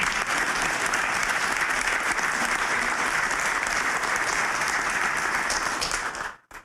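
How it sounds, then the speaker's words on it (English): People at a city council meeting applaud police, the fire department and first responders, a steady crowd clapping that holds evenly and then fades out quickly at the end. "This is the time we applause"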